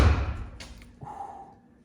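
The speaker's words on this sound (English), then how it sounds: "you hear how nice that door closed?" A truck door fitted with new door pins swings shut with a single solid slam at the start, followed by a faint rattle and a brief low hum as the sound fades away.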